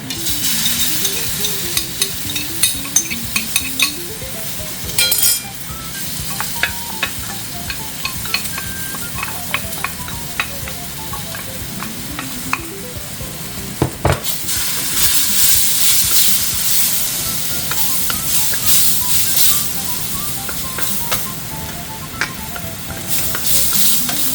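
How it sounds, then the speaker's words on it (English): Sauce goes into a hot pan of mapo tofu with mushrooms, bursting into a loud hiss and sizzle, followed by steady frying crackle and intermittent scraping and clinking of a spatula stirring. "So now I'm going to put the sauce in."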